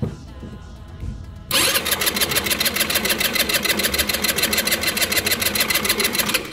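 An Italika DS150 motor scooter engine, which has damaged rollers and lacks power, cranks and catches, then runs with a loud, rapid, rhythmic mechanical chatter close by.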